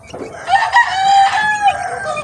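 Unvaccinated chickens raised by hand cluck and crow loudly close by, with rising, warbling calls overlapping in quick bursts over a low background murmur.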